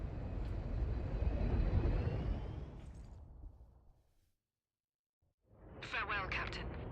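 A Valkyrie gunship from Warhammer 40k: Space Marine roars past with a loud, broad jet rush that fades out over about four seconds, then silence before another burst of engine noise returns near the end.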